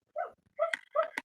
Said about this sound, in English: You can hear my little dog in the background probably.